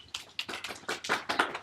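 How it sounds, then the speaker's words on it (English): Workshop participants give a light golf clap, a short run of soft, fairly close hand claps in an uneven rhythm, with no talking. "Golf clap."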